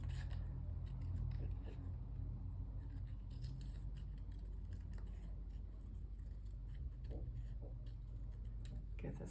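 Scissors snip through paper while a rabbit shape is being cut out, producing faint, close, irregular crisp cuts and small scrapes over a low background rumble, with no speech.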